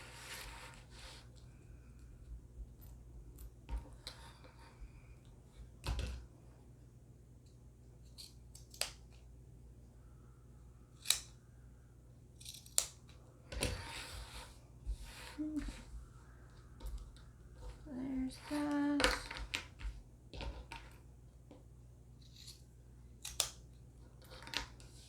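Scissors trimming excess fabric for a small lip-shaped purse, a series of quiet crisp snips spread unevenly across a calm room.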